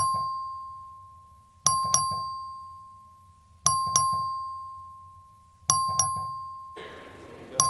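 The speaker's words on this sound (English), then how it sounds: "Clerk, ring the bell." A voting bell in a state legislative chamber rings during a record vote, with repeated ding-dong chimes in evenly spaced pairs over a steady electronic tone, loud and clear with no talking.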